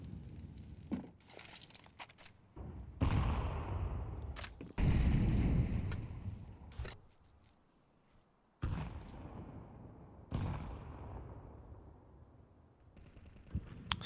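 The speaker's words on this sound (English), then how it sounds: "Salvo of nades." Several grenades explode in a burst in a CS:GO match on the Vertigo map, heavy booms thudding in separately over about fourteen seconds, some near and loud, others fainter and more distant, with no voices over them.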